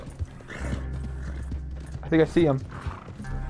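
Horse hooves clip-clopping in Red Dead Redemption 2, a galloping mount named Rosie that is slowing as its stamina runs low, with a brief whinny partway through and someone talking over it.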